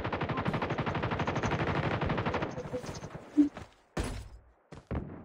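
Rapid automatic gunfire from a mobile shooting video game rattles in a dense, continuous burst, then gives way to a few separate heavier shots, loud and close, with a player speaking over the action.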